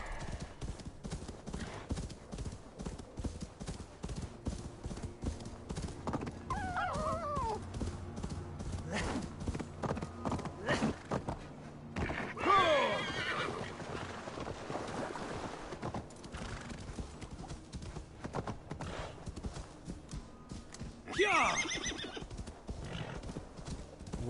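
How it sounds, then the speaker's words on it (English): A horse in the Assassin's Creed Valhalla video game trots with steady, continuous clip-clop hoofbeats and gives two high, thin whinnies, one midway and one near the end, all fairly close. "Why did my horse just sound like a teeny little pony when it neighed?"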